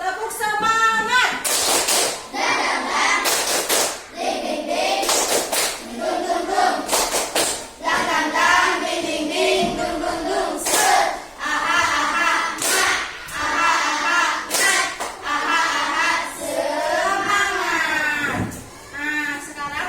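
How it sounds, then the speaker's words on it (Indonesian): A school class performs a rhythmic clapping chant, sharp bursts of group claps punctuating chanted voices in a repeating pattern, loud and close throughout. "Coba biar semangat, tepuk semangat dulu."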